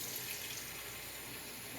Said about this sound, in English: then we get some hot water